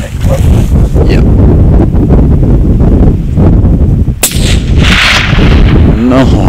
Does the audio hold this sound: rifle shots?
yes